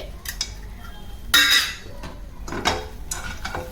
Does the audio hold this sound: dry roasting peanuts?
yes